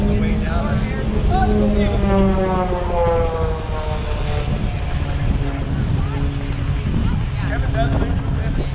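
A propeller aerobatic airplane snaps into roll after roll while diving toward the ground at an air show, its engine droning and wavering in pitch, loud and steady, with a person talking over it.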